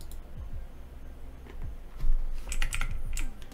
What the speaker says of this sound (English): Here you can navigate with your keyboard.